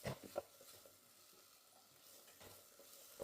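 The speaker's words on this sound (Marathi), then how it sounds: "मसालाही छान परतला जातोय आपला।" Masala spices sizzle and fry in oil for a Maharashtrian-style chicken curry, a soft continuous crackle broken by a few scrapes of stirring, with no talking.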